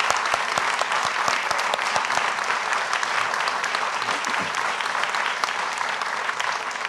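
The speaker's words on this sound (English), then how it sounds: "Let's have a round of applause for them." Audience applause welcomes Kentucky gubernatorial debate candidates Andy Beshear and Daniel Cameron, a steady, dense clapping from a live crowd that holds at an even level for about seven seconds with no talk over it.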